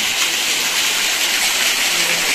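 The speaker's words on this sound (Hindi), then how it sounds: "ये पानी देखिए ऐसे टपक रहा है जैसे पहाड़ का पसीना हो भाई" Water trickles and splashes down a mountain rock face near a remote village, a steady, loud hiss of falling water with no let-up and no voices.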